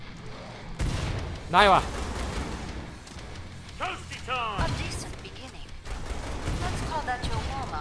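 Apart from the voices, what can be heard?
gun firing in Killing Floor 2 video game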